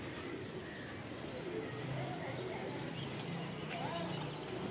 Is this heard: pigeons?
yes